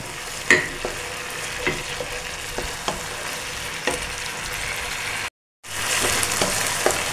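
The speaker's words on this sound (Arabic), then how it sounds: "هننزل بصلايه جميله زي ما انتم شايفين اهي، بصلتين صغنطتين، ونسيبهم يتمكسوا مع بعض" Two small onions fry in a pan with a steady close sizzle and occasional stirring taps, broken by a brief silent gap before the frying resumes, a little louder.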